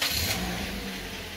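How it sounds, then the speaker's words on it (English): Engine of a 2015 Toyota Corolla idling steadily after starting, a low continuous hum with a soft hiss on top, heard close and with no talking. "So I'll start the vehicle"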